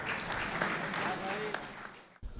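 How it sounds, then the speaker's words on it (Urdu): Audience applause at a mushaira poetry gathering in Bahrain, steady broadband clapping for a poet that carries on for about two seconds, then cuts off sharply before a brief return. "بہت سی تالیاں رخسار کے لیے"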